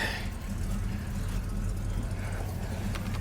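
A square body truck idles as it is driven slowly into place, a low steady engine rumble with faint background noise and no clear voices.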